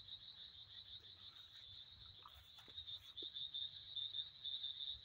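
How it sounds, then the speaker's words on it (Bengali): Frogs croak softly in the rain at a rural Bangladeshi roadside with overgrown vegetation, a faint steady chorus under a constant high insect-like drone and light patter, with no voices. "ব্যাঙের ডাক শুনতেই পাচ্ছেন"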